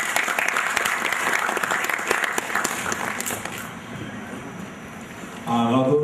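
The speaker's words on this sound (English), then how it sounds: "Another round of applause for" Sustained applause from a conference audience at a Nigerian cybersecurity event, a dense steady wash of many hands clapping that fades slightly before a voice begins talking over it near the end.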